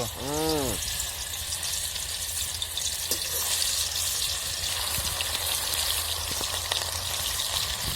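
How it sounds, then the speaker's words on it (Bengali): Tuna pieces dropped into very hot oil for frying give a steady close sizzle with light spattering, and a short tonal chirp sounds near the start, with no talk over it. "এখন আমাদের মাছ ভাজা শুরু হবে তেলটা গরম হয়ে গেছে অনেক গরম হয়ে গেছে ফার্স্ট টোনা পিস চলে গেল"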